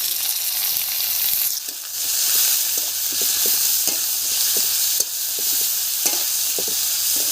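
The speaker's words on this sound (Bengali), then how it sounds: "তেল গরম হয়ে গেছে জিরে ফোড়নে দিয়ে দিলাম পেঁয়াজ দিয়ে দিলাম" Sliced onion and cumin seeds fry in hot oil in a kadai (wok) for a village-style fish curry. A loud, steady sizzle runs throughout, broken by repeated scraping strokes of a spatula, with no talking.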